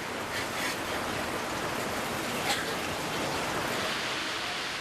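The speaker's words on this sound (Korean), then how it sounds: "긴 우기를 가진 캄보디아 때문에 시도 때도 없이 폭우가" Heavy rain pouring down in Cambodia during the rainy season onto a slate roof, a dense, steady hiss that is loud and constant throughout with no voices.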